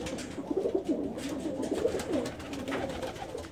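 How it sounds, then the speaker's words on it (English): Domestic pigeons in a breeding loft make soft, repeated throaty coos, several overlapping birds close by, with light rustling and no speech. "Anyway, we got pigeons looking good."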